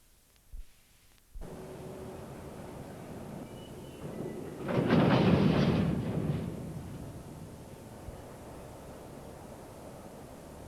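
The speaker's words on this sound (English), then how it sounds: "Quickly following the empty coal hoppers, a train of empty iron ore bogie wagons" A Class 60 locomotive hauling a train of empty iron ore bogie wagons at the Port of Immingham gives a low, broad rumble that swells to a peak midway, then eases back into steady distant noise.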